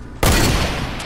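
A loud gunshot blast from the video game Fortnite bursts in suddenly and rings on with a sustained, dense roar of gunfire, alone without talk.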